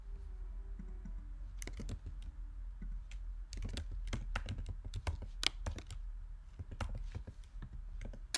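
Keys on a computer keyboard clack in quick irregular bursts while code is typed, close and fairly quiet over a low background hum.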